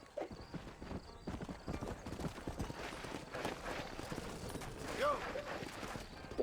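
Horse hooves clip-clopping in Red Dead Redemption 2, a steady run of close, moderately loud hoofbeats with a brief whinny near the end, mixed with game ambience and faint talk.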